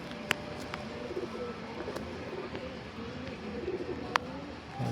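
Pigeons cooing softly in a loft, low repeated coos under a faint background hum, with a couple of sharp clicks.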